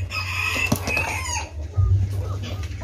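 Backyard chickens feeding in a coop, clucking close by in short bursts with brief rustling.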